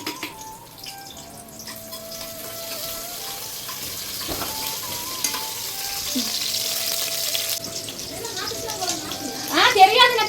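Onions frying in oil with mustard seeds in a home kitchen, a steady sizzle with some stirring and water-like hiss, rising louder near the end, under a voice and background talk.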